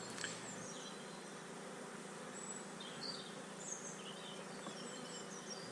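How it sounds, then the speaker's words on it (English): A steady, dense buzz of many honey bees swarming close by under roof tiles, continuous throughout with faint higher chirps scattered on top and no voices. "the bees have got a little bit busier now"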